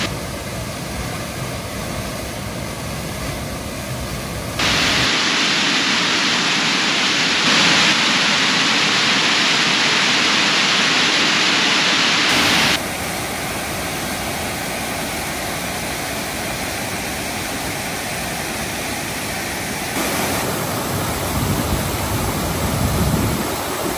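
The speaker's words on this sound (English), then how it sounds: "Fantastic waterfall here." A mountain waterfall on An Teallach in the Scottish Highlands roars as a steady, broad rush of falling water, holding constant and loud through the clip with a brief surge in the middle.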